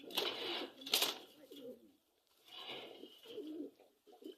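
White Bombay pigeons cooing close by in soft, throaty bursts, two rounds separated by a short pause, with faint rustling in the background.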